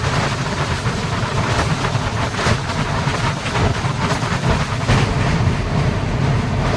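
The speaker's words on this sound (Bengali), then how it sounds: "আমরা কোলাঘাট ব্রিজ এখন ক্রস করছি" Loud, steady rumble and rattling clatter as the Tamralipta Express crosses the Kolaghat bridge over the Rupnarayan river, continuous throughout with no voices.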